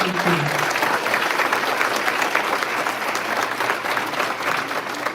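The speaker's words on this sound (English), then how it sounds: "please give them each a round of applause" A crowd applauds steadily, many hands clapping together in a dense, sustained round that carries on without a break.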